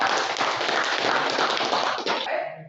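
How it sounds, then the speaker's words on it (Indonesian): A classroom audience applauds a presenting group of high school students with dense, continuous clapping from many hands that holds steady for over two seconds and then tapers off quickly at the end. "berikan aplaus untuk kelompok"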